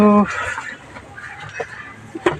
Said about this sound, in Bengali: এই যে আমার মুরগিগুলো মোটামুটি ডিম পাড়ার উপযুক্ত হয়েছে